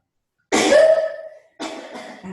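A single explosive burst from a person during a yoga session, close and loud, followed about a second later by a shorter second burst.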